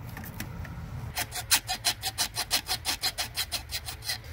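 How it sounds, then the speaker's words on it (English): A rubber hose on a 2005 Honda Odyssey 3.5L engine is twisted to break its seal, giving a quick series of rhythmic squeaky rubbing strokes, close and fairly quiet. "grab the hose and break the seal"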